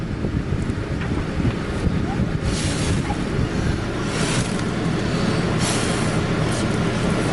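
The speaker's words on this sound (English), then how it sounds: "we're gonna blow into them with the straws at the same time." Breath is blown through straws into a pair of model lungs for an asthma experiment, making a continuous close, breathy rushing with a few louder puffs.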